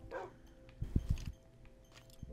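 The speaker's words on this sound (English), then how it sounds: "Dogs here." Minecraft dogs on a multiplayer server give a cluster of short barks and yips in quick succession near the middle, moderately close, with quieter game ambience before and after and no talking.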